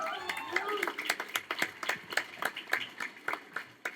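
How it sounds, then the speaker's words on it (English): Clapping from a small crowd at a Mini City Hall grand opening, a fairly quiet and regular rhythm of hands at close range, with voices speaking over it. "please give them a round of applause, but you were doing that continuously"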